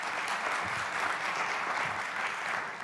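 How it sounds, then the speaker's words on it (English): A church congregation at a worship service breaks into steady, dense applause, a continuous wash of many hands clapping that holds at an even level throughout. "Yeah, we'll clap to that."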